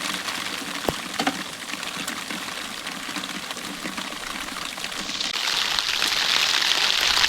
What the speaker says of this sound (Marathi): तर मंडळी पावसान जोरदार अगदी जोर धरलेलो हा.